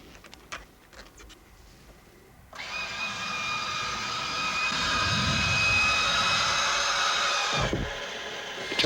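An F-16C fighter's jet engine roars up after a few clicks, rising into a loud sustained whine and rumble that holds for several seconds before dropping off abruptly near the end.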